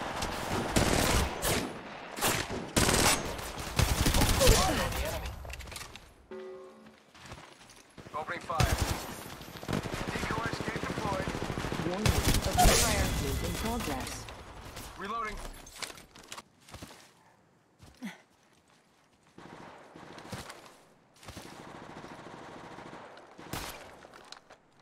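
Gunfire in the mobile battle-royale game Apex Legends Mobile, with rapid automatic bursts and single shots in dense clusters, loud and close, plus game voice lines and effects, and a stretch of quieter gaps near the end.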